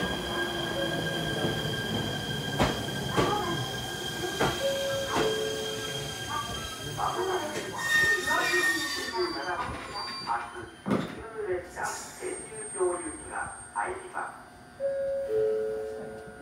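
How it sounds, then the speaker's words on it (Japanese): An up train pulls into a platform at JR East Tatsuno Station, its wheels squealing and clanking over rail joints in a rhythmic run of thumps as it slows, with platform announcements playing over it. "3番線に上り列車が参ります。"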